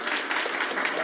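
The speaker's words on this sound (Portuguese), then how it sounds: "Vocês podem aplaudir os meninos da música." Church congregation applauding the music team after worship, a dense burst of clapping filling a room, brief and steady.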